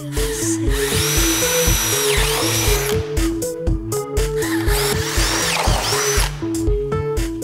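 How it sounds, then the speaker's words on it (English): A power drill whirs in repeated bursts with shifting pitch, drilling holes through EMT tubing for threaded rod, set over a rhythmic pulsing music backing, loud and close. "drill holes approximately double the size of your threaded rod"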